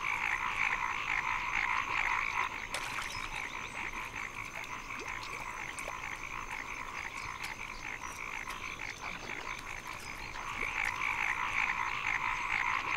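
Frogs croaking in Southwest China, a dense chorus of raspy, overlapping calls that runs continuously at moderate volume, with a few sharp clicks scattered through.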